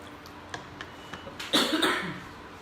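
A single muffled cough near the end, preceded by faint scattered clicks and light kitchen clatter in a quiet room while asam pedas curry is cooked.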